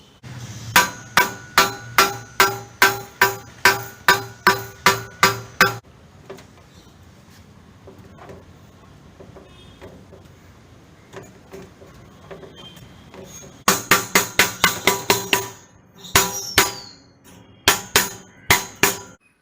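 Sheet metal pieces for a homemade cupboard hammered along a marked fold line, bursts of sharp ringing blows in quick runs, loud and close, with a quiet pause between them and no talk.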